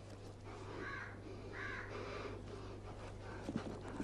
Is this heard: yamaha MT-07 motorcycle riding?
no